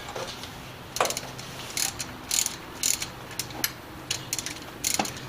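A hand ratchet clicks in short bursts while tightening thermostat housing bolts on a 1978 Dodge W150 truck, the sharp ratcheting runs repeating about a dozen times with small pauses between.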